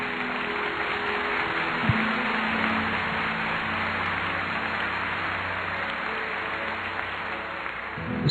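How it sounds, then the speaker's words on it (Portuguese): A church congregation applauding, a continuous even roar of clapping that holds steady and fairly distant throughout, with a low hum beneath. "Vamos aplaudir para valer."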